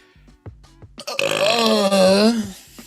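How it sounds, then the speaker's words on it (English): A long, loud, drawn-out burp after drinking plain water, rising and wavering in pitch close to the microphone, preceded by a few short clicks and mouth sounds. "That was a water burp."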